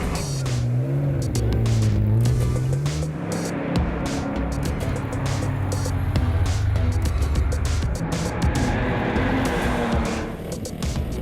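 1960s endurance race cars, including AC Cobras, racing at the Spa Classic with about 60 entrants, loud engines rising and falling in pitch as cars pass and accelerate one after another, heard alone.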